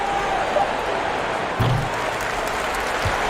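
A steady wash of crowd applause and cheering fills a basketball arena in College Hoops 2K21 on PS5, holding loud and continuous throughout with a slight swell midway.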